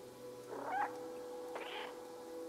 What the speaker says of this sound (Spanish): Perfecto, ya hemos maullado.